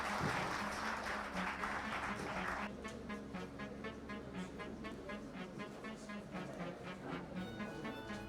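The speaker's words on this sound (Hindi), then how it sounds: "लिए ज़ोरदार तालियां हो जाए।" A crowd at a Women's Day award ceremony bursts into loud applause for Wasim before his poetry. After a few seconds the clapping fades under music that carries on steadily.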